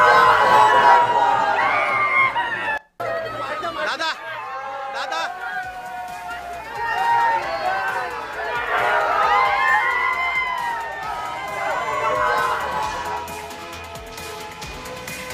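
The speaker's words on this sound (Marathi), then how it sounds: "सध्या कार्यकर्त्यांकडून जल्लोष साजरा केला जातोय" Crowd of party workers cheering and shouting at an election victory celebration in Raigad, a dense roar of overlapping voices with rising whoops and calls, loud and continuous throughout.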